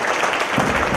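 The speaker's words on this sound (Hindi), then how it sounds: "मैं चाहता हूं एक बार जोरदार तालियां आपको" Loud applause from an audience at a motivational talk, a dense steady wash of clapping through the whole moment without a break.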